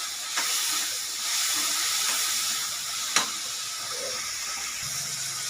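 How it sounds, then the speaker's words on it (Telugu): Tempering spices frying in oil in a pan for a drumstick leaf curry, giving a steady hissing sizzle with a couple of sharp clicks, no voices. "ఫస్ట్ మనం తాలింపు వేపుకుంటున్నాం ఫ్రెండ్స్"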